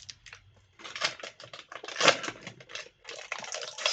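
A protein bar wrapper is torn open in a quick series of crisp, crinkling rustles. The sound is close and fairly quiet, with short bursts separated by brief pauses and no speech.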